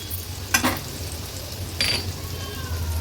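Ginger garlic paste fries in hot oil with a steady soft sizzle, broken by two quick scrapes of a stirring spoon against the pan.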